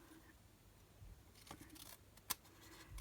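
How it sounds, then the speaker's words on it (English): Scissors snip once through a handmade paper card, giving a single crisp, close cut against a quiet background. "I'm just going to trim that off."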